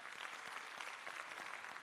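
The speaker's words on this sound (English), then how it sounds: "Branch delegates, can you also give yourselves a nice round of applause?" Round of applause from branch delegates at the 10th ANC Northern Cape Provincial Conference, a steady dense clapping that fills the hall at a faint, distant level throughout.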